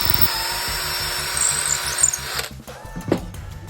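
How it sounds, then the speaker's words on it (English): A power drill bores clearance holes into oak, a steady whirring buzz running for a couple of seconds before winding down and stopping, close and fairly loud. "I'll just drill the first one."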